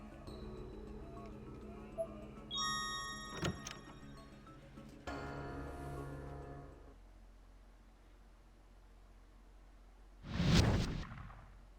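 A ghostly noise from the Corpse Party: Blood Drive horror game stands in for a ghost's footsteps: low, moaning, cattle-like groans drift in and out, then a sharp rushing burst swells near the end.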